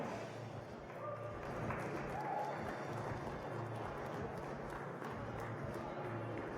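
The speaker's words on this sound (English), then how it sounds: "Local crowd is certainly getting behind Sammy. There's a lot of cheering going on for her." A local crowd cheers and claps for a climber at a bouldering national championship, a steady wash of cheering at a middle distance with a commentator talking over it.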